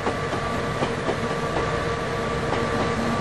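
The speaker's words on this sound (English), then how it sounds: "the most efficient way of getting the train down there is to back it" Train reversing slowly along the track in the railroad simulator game 3D Railroad Master: a steady, loud rumble of rolling wheels and engine noise with faint rhythmic clicks, heard alone.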